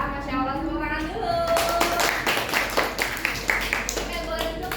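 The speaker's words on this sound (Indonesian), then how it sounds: "tepuk tangan dulu" A classroom of pupils applauding a group at the front, a steady mass of overlapping claps filling the scene, with children's voices and chatter mixed in throughout.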